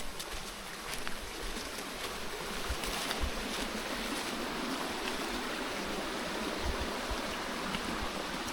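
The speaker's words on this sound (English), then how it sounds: "just to show you the waterfall." Cascada del Zurreon waterfall sounds as a continuous, even rush of falling water on a slippery walking trail, moderately distant, with a few faint clicks and no speech.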